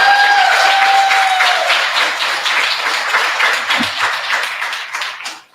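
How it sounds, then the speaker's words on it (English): An audience at a commencement ceremony in Chicago claps loudly in dense continuous applause that holds steady, then tapers off and cuts out at the end. "Let's give them a round of applause."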